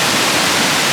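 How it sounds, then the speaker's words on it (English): Canyon Falls waterfall roars as a loud, steady wash of rushing water, close and unbroken across the brief moment with no talking. "And there's the other waterfall."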